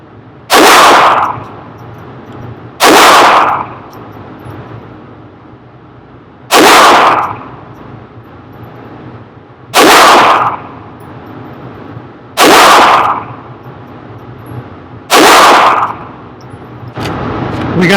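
Glock 44 pistol firing Federal .22 rounds at a range, seven sharp loud single shots spaced about two to three seconds apart, each with a short ringing decay.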